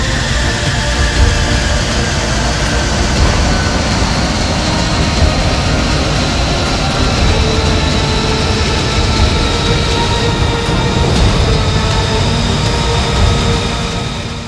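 A continuous loud, broadband engine roar from an F-35 Lightning II fighter jet rolling along a runway on a Finnish highway, steady and dense for the whole stretch with no pauses.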